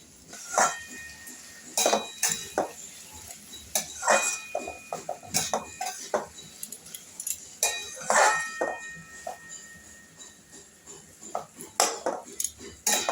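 Repeated metallic clanks and clinks of utensils and a lid on a pot of cooking fish, close and fairly loud in irregular bursts, with scraping and rattling between them.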